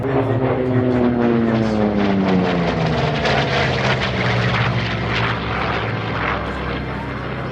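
A fast jet airplane passes at an air show at La Ferté-Alais, its loud engine roar sweeping down in pitch as it flies by, with faint crowd noise behind.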